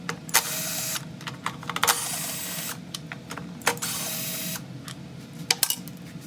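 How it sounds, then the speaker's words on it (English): Bolts being loosened off the gas tank of a Yard Machine 300E lawn mower with a Briggs & Stratton engine, close metallic ratcheting and clicking bursts over a steady mechanical hum. "I need to take off these 3 bolts up here"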